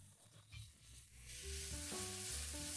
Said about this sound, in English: Once it's hot, we will add 2 cloves of minced garlic and 1 large chopped onion.